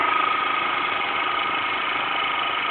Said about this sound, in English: you will hear the motor slowing down a bit